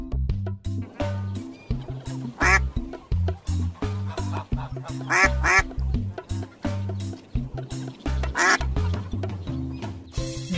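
A duck quacks in bursts over a bouncy children's music track, the calls repeating several times across the stretch, fairly loud and set in the mix rather than alone.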